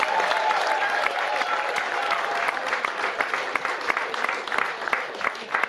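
Audience applause for a panelist at a seminar on building work ethic in children: steady, dense clapping from a sizeable crowd, fairly loud and sustained throughout without talk.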